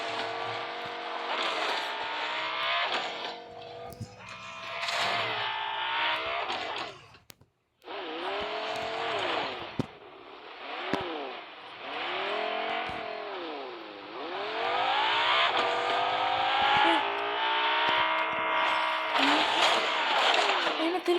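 A car engine revs and drives, its pitch rising and falling in long sweeps. The engine cuts out briefly near the middle, then picks up again and holds a loud, steady drone, with people talking over it.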